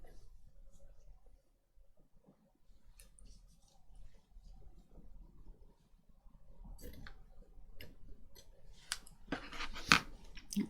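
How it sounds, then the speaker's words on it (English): Scissors cut craft paper in quiet, scattered snips and clicks, close by and faint, with sharper cuts toward the end. "Let's just cut a bit of that off."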